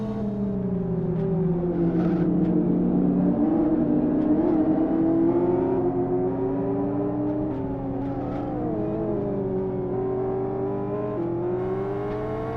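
Race car engines in the Live for Speed video game hold a loud, steady whine, with pitch rising and falling as several cars accelerate and shift gears through a rally cross event, with no voices.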